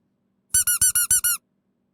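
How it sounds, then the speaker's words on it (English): A victory squeak from a Pokemon Infinite Fusion game: six quick, bright, high-pitched chirps in an even burst lasting under a second, close and clean against silence. "This is a victory squeak."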